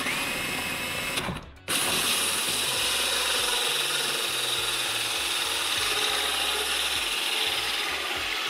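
A 44mm hole saw cutting through scrap wood, a loud continuous grinding drone that runs steadily for the whole stretch, broken by one brief pause near the start.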